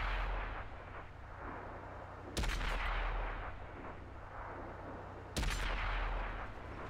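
Tank gunfire in an online tank battle game, two heavy booming cannon shots a few seconds apart, each a sharp loud crack that rolls off into a long rumbling decay over constant low engine drone.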